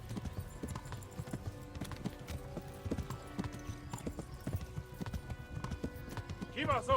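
Horse galloping in the video game Kingdom Come: Deliverance, a fast continuous run of hoofbeat clip-clops with a brief whinny near the end, under quiet game sounds.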